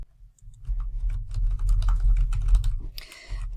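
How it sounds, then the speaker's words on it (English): Quick bursts of keystrokes on a computer keyboard as a search is typed, a close run of light clicks for a few seconds ending in a brisker, sharper patter, with no voices. "let's type in lesson planner into Amazon"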